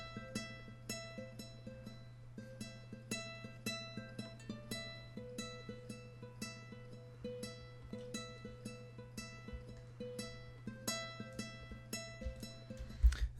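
A second guitar-sample melody programmed in FL Studio for a beat plays as a steady run of bright plucked notes. A constant low sustained tone hums beneath it. The sound is clean and close, with no voices.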